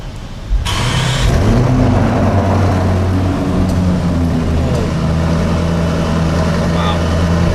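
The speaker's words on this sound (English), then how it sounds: "let's flick this start-stop button. Let's see what this engine and exhaust sound like." A 2018 Lamborghini Urus starts up with a sudden loud engine catch, then settles into a deep, steady exhaust rumble with a low harmonic drone that holds close and loud throughout.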